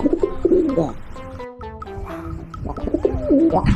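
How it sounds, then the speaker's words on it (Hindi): A pigeon coos nearby in soft, throaty, rolling phrases, one set early and another toward the end, with a brief quiet gap between. "पिजन, पिजन मतलब कबूतर।"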